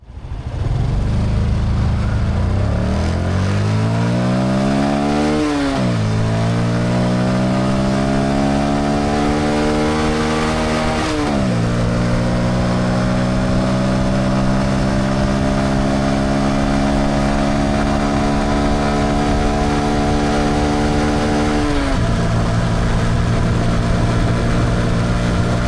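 A Honda CT125 or Yamaha PG1 motorcycle accelerates hard toward top speed, the engine loud and close, climbing through several gears in rising sweeps and dropping briefly at each shift over about 25 seconds.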